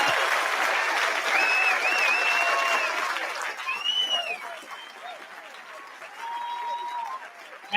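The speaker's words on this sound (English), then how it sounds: "A round of applause for John for being here." Sustained applause from an audience at a live indie game pitch competition, steady clapping with whoops and cheers over it, fading slightly near the end.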